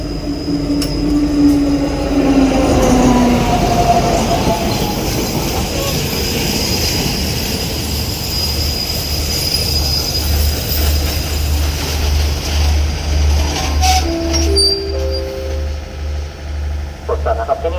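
A train horn sounds, then a loud passing Thai railway train rumbles with rhythmic wheel clatter near Ban Song station, another horn blast and squealing wheels near the end.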